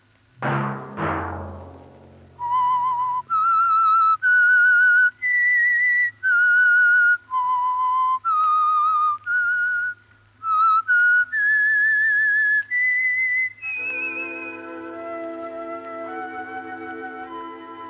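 A short opening thump, then a clear whistled melody of distinct sustained notes, followed by a brief orchestral chord swelling at the end: the 1951 radio theme of The Whistler.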